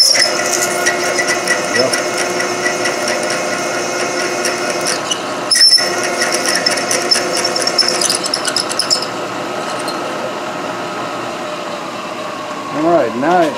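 A milling machine cuts metal for a vise stop, giving a steady high whirring hum with harmonic tones, a brief sharp clunk midway, then a quieter run-down, with a short spoken word.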